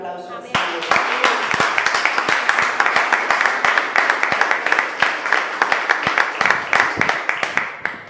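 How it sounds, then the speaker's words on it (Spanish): Church congregation applauding at a worship service, a dense, steady burst of many hands clapping that starts abruptly and carries on loud and close, with a voice briefly heard at the very start. "Den un aplauso al Señor."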